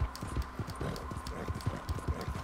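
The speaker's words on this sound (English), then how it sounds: "Deer chasing with a horse." Rapid hoofbeats of a horse galloping hard after a deer in Red Dead Redemption 2, a steady run of close, heavy clip-clop thuds over faint game ambience.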